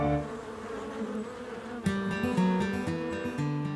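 Bees buzz among flowering almond trees, a dense steady drone of many insects that grows noticeably louder partway through as individual bees pass close by.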